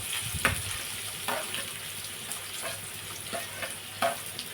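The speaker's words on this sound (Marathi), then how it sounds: "तेल चांगलं गरम झालेलं आहे त्याच्यात हे कांदे आपण टाकून घेऊया" Onions sizzle in hot oil for egg bhurji, a steady crackling fry with occasional clinks of stirring, close and moderately quiet.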